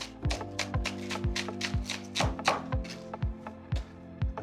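A knife chops spring onions diagonally on a cutting board in a kitchen, making a steady run of crisp, close taps about five times a second that all sound alike.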